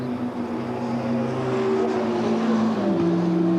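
Touring cars race around Silverstone during round 9 of the 1986 British Touring Car Championship. Engines drone together in a steady, loud wash, with higher tones sliding as cars pass.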